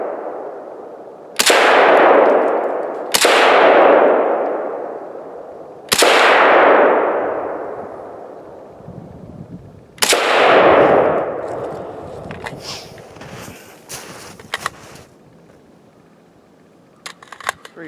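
Four loud AKM rifle shots ring out one at a time, each sharp crack trailing into a long echoing decay, followed by fainter metallic clicks and handling noises.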